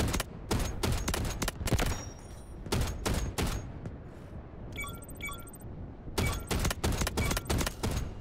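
Attack helicopter gunfire in Delta Force rattles in rapid bursts of sharp, loud shots, broken by short pauses and a brief mechanical chime before firing resumes.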